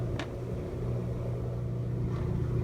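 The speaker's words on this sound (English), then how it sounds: "I was hearing a little bit of gear noise coming from this" A model 2-8-8-2 locomotive's gear train gives off a steady, low mechanical whir and hum, close and continuous, with a couple of faint higher ticks.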